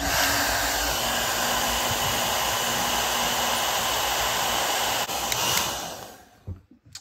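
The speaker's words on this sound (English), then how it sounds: "I'm just going to blast it with some low heat right here. I'm going to put it on the low heat setting." A heat blower set to low heat runs continuously to soften a plastic toy, a loud, steady rushing hiss with a faint hum that holds for about six seconds before cutting off, leaving brief handling noises.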